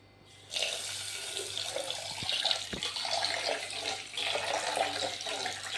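Raw rice, half a glass, washed under running tap water in a kitchen: a steady, close rush of water and splashing starts after about half a second and continues without pause, with no talking.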